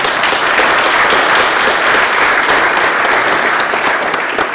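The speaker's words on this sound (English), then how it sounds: "give Dr. Bass a round of applause" Steady, dense applause from an audience at a symposium, honoring a doctor just introduced, holding loud and even throughout with no break and no voices over it.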